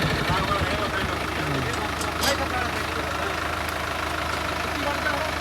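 A tractor engine idles nearby with a steady, heavy low rumble throughout, while people talk over it.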